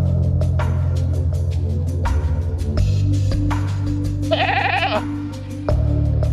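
A goat bleats once in a wavering, quavering call, fairly loud over a steady droning background with scattered clicks and hum.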